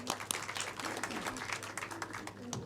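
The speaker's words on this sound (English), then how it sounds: "Let's give them a round of applause." Audience applause following a climate report presentation at a formal event, dense, steady clapping for under three seconds, moderately distant and fairly quiet, with a brief voice mixed in.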